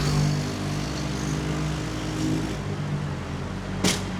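A small motorbike engine with a disconnected exhaust roars loud, harsh and steady at close range, with a steady drone and no speech.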